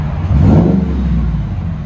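Supercharged GMC Sierra Denali with a 6.2L V8 and Magnaflow exhaust revs loudly and close by, a deep steady engine roar that swells early and holds for about two seconds.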